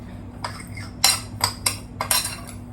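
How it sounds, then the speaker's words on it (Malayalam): A metal spoon clinks and scrapes against a bowl while grated coconut is stirred into sweet dosa batter, with a few separate, fairly close taps in an irregular rhythm. "ഇനി ഇത് രണ്ടും കൂടെ ഒന്ന് മിക്സ് ചെയ്ത് കൊടുക്കാം."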